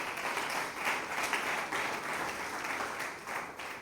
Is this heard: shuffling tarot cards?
no